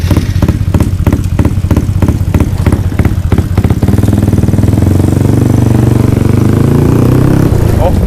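A tuned Honda Wave motorcycle with a windshield fairing, a 66 mm bore, a 4-valve head and a cracked crankcase cover runs without its muffler. It pops loudly in a rough rhythm, then pulls away into a steady, droning roar while people talk.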